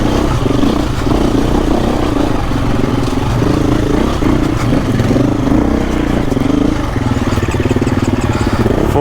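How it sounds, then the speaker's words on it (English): A 2024 KTM EXC-F 350 four-stroke dirt bike engine on a hard enduro ride runs loud and close with a rough, uneven chugging beat that sputters and wavers near the end. "Four-stroke, see, they stall."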